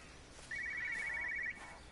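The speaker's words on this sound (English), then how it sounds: "Phone is ringing." A telephone rings in the video game Everybody's Gone to the Rapture, one bright electronic trill lasting about a second, heard clearly over a quiet background hiss.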